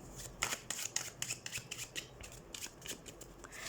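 Tarot cards being shuffled, a quick series of soft papery riffles and flicks close to the mic with no talking.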